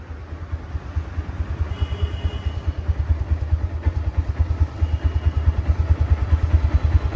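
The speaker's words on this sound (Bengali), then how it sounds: "ইঞ্জিনটা রানিং অবস্থা স্টার্ট অবস্থায় আছে" A Honda Hornet motorcycle engine runs steadily nearby, its low rhythmic thumping pulse growing slightly louder toward the end, with no voices.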